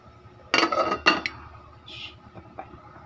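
A lid goes onto a cooking pot while fish and vegetables cook, giving two loud metallic clanks close together, then a few lighter clinks and taps in an otherwise quiet kitchen.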